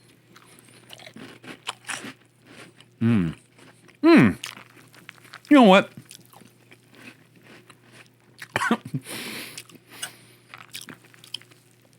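Crunchy Trix cereal being bitten and chewed, giving a few loud crunches that come in separate bursts, with someone talking between them.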